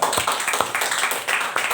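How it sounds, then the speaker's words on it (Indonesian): Students in a high school classroom clap for a classmate, a quick burst of close, fairly loud hand claps in an uneven rhythm. "Oke, tepuk tangan untuk dia."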